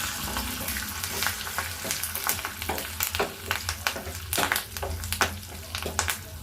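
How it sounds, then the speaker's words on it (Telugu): Dried red chillies and curry leaves go into hot oil with fried garlic for a dal tempering, bursting into a loud, busy sizzle with crackling pops and spatters throughout, close to the pan. "ఇప్పుడు ఎండుమిర్చి, కరివేపాకు వేసేస్తాను."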